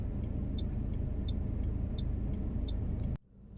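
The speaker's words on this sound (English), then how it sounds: "Change into reverse gear. Turn the steering wheel 3/4 to the left, and slowly begin to reverse your car." A car reverses slowly during a parallel-parking manoeuvre for a driving test, giving a steady low engine rumble with a faint regular ticking, like an indicator, before the sound cuts away near the end.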